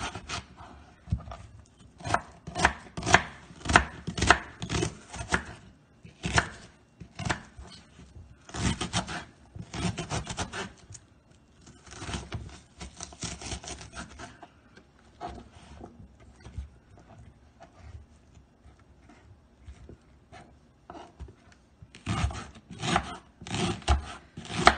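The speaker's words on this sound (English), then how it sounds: "So let's start cutting." Knife chopping onions on a cutting board while preparing creamy spinach pasta, a long run of quick, close rhythmic cuts in bursts with short pauses and no talking.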